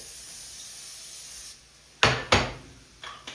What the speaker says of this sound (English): I'm gonna spray that pan down